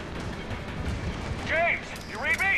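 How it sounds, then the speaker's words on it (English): Gunfire in the Mass Effect 3 video game comes as a muffled, rolling rattle of shots, followed by bright metallic ringing bursts near the end, heard at moderate loudness. "I think it's pointless shooting at her."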